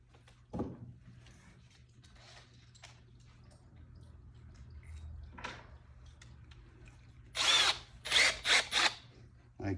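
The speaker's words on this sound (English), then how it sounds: "So I'll get my little countersink out." A drill fitted with a countersink bit bores into a wooden floating shelf, giving four short, loud whirring bursts in quick succession near the end, after a quiet stretch with a single knock.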